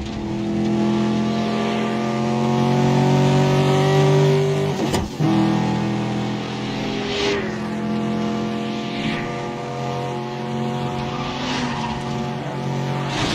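Dense car traffic during a chase in the Medal of Honor Warfighter video game, with steady loud engine roar and tire noise, a sharp impact-like burst midway, and occasional passing whooshes.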